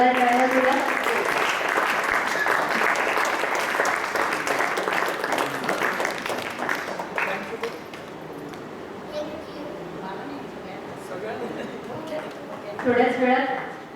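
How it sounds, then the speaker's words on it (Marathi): Audience applause at a book launch, loud and sustained clapping filling the first half and fading into scattered claps, with a brief renewed burst near the end and voices talking underneath. "या सगळ्यांसाठी आपण जोरदार टाळ्या वाजवूया."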